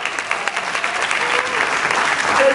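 An audience at a keynote talk applauds with steady, dense clapping that carries on for the whole stretch without a break, a few voices faint beneath it.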